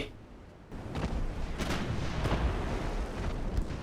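Naval cruiser guns aboard a P-class cruiser in Ultimate Admiral: Dreadnoughts boom out in several heavy, rumbling salvos spaced about half a second apart, with a low roar lingering between shots.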